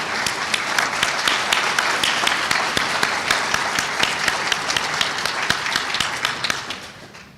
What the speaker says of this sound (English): Please applaud for them, and please stand if you are here